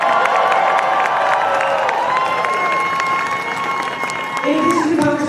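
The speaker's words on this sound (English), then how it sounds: "Please join me in thanking round of applause for Lieutenant Governor Julian Stratton." Dense crowd noise with cheering and applause at a No Kings Day march rally in downtown Chicago, loud and sustained, with a sustained tone ringing through the din.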